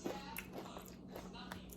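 Crunchy chip snack bitten and chewed close up, giving a quiet run of crisp crackles over a noisy background.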